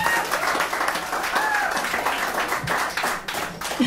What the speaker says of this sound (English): I wanted to give a big round of applause to my manager